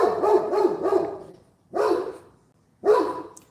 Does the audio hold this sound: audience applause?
no